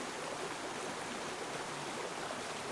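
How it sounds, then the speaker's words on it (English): Josephine Falls in Australia, at the foot of a mountain amid thick vegetation, sends out a steady, dense rush of falling water, loud and unbroken throughout with no voices. "our first stop leads us to the Josephine Waterfall"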